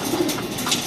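A racing pigeon coos softly at its loft after returning from a race, a short low murmuring coo close by over quiet background noise.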